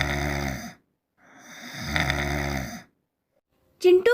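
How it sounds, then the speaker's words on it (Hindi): A man snores in an animated story, two long, heavy, rumbling snores with a pause between them. A brief voiced sound follows at the very end. "एक तो सेठ जी के खर्राटे"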